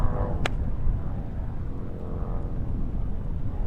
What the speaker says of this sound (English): Distant sound of a motorbike ruining the tranquility.